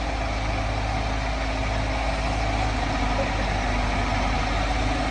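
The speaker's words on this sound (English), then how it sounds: "Run the extendahoe out there for you" A 2002 Case 580M backhoe with a rebuilt engine idles steadily and evenly at close range while the extendahoe is run out, a constant diesel drone with no breaks.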